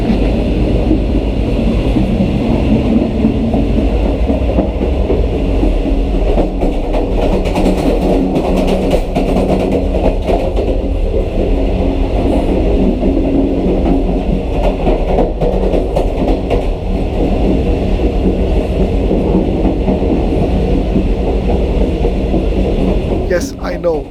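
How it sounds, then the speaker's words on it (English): Greenline Express passenger train in Pakistan running at night, a loud, steady rumble with continuous rail clatter and wheel noise throughout, heard from inside the train. "the sound of the train is the same"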